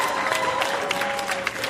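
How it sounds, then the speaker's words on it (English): A small crowd claps and cheers at the close of a clown interview show, a dense burst of applause with whoops running throughout. "Ridiculous crowd noises."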